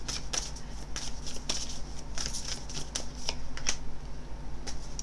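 Oracle of the 7 Energies cards being shuffled by hand, close, quick irregular flicks and riffles repeating over a low steady hum, with no voices.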